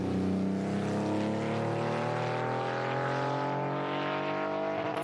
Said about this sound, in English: that's classic engine note noise there from the 1980s Porsche 911